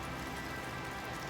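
Steady rain falling on a dreary, wet day: a soft, even patter that continues without a break.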